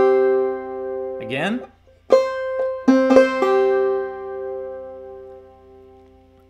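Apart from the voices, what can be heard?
clawhammer banjo playing Snowdrop phrase with drop thumb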